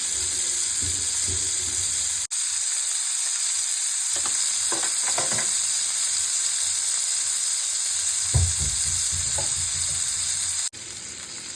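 Fish sizzling steadily in plenty of hot oil with neem leaves, a dense continuous frying hiss from start to end with occasional soft clinks and stirring scrapes over the top.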